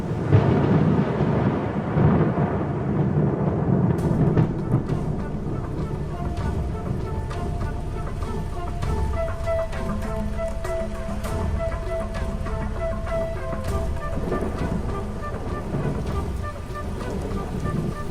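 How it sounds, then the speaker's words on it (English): Steady heavy rain pours down, a dense continuous hiss with a low rumble underneath that could be distant thunder. "As the last embers burn to dust, the promised rain arrives at last."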